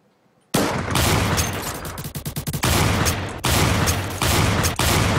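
Rapid automatic gunfire from a Roblox first-person shooter game, loud and close, with sustained bursts, a stretch of fast separate shots in the middle, and brief pauses between volleys.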